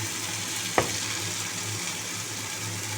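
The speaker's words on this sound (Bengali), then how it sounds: "এই যে সবজি সেদ্ধ করে রাখা সবজিটা দিয়ে দেবো।" Boiled vegetables drop into a hot frying pan with a brief soft thud, followed by a steady, even sizzle of hot oil.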